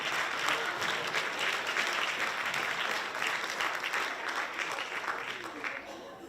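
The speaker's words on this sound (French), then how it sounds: "On lui fait une bonne main d'applaudissement." A crowd gives a hearty round of clapping at a local college talent show final, a sustained even patter of many hands, moderately distant and unbroken.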